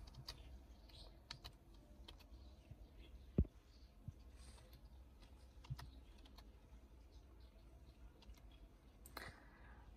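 Keys on a computer keyboard are typed in sparse, irregular bursts, with one sharper clack near the middle. Quiet and close over a low room hum, with no talking.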